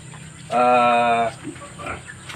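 A pig on a farm gives one loud, drawn-out squeal lasting under a second while the seven pigs are being bathed, with a steady background hum before and after.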